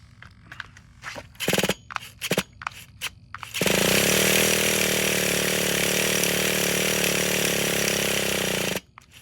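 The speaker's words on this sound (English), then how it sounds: "I'll put some fuel in it and let's see if we can make it run." An old RC car's small engine is pull-started: several short rasping cranks, then it catches and buzzes loudly and steadily for about five seconds before cutting off abruptly.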